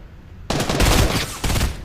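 Heavy gunfire in a video game erupts suddenly after a quiet start: a loud, dense burst of shots fills the space, briefly eases, then a second close, sustained volley follows, with no talking.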